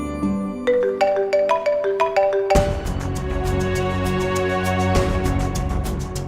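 A bright melodic phone ringtone chimes through a rising run of tones, then repeats with fuller, louder notes and a steady pulsing beat.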